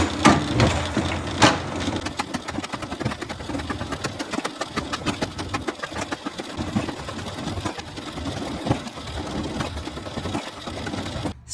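A RIDGID K400 drain snake auger spins its cable inside a 2-inch drain, with a continuous motor whir and a clattering, rattling cable noise that runs steadily throughout.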